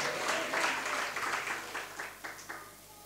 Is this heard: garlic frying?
no